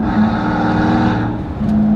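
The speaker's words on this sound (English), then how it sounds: "what you really feel is the sound from the engine" A Mercedes-Maybach Exelero's 700-horsepower twin-turbo V12 pulls hard, a loud, continuous engine roar that stays steady and close throughout with a slight dip near the end.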